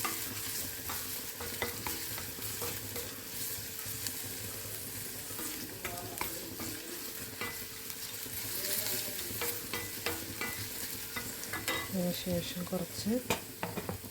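Rock salt being stirred into a pan of vegetable biriyani: a steady, close sizzle of frying with continuous scraping and stirring strokes, and a brief spoken word over it.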